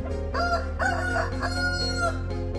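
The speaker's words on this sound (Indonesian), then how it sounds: "Tiba-tiba, ayam itu berkokok dengan keras serta berkata sesuatu." A rooster crows loudly and close by in one long, ringing cock-a-doodle-doo over a steady low background hum.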